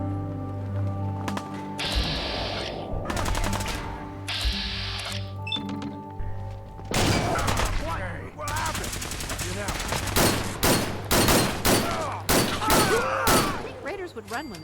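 Gunfire in the video game Fallout 4, with dense bursts of rapid shots and loud cracks repeating over about fifteen seconds, close and sustained above a steady low background hum.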